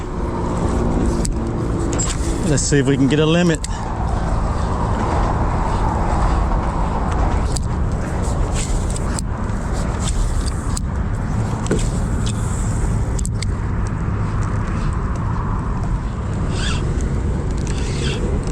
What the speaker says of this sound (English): Rush hour traffic's above me. That's a Matthews Bridge.